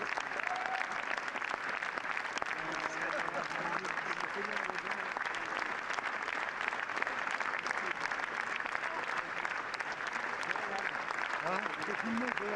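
A large crowd applauds continuously at the Cannes 2024 red carpet, a dense, even wash of clapping with voices mixed in beneath it.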